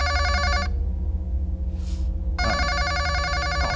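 A telephone rings at a radio station, a loud electronic bell in two bursts separated by a roughly two-second gap, heard just before the call is picked up.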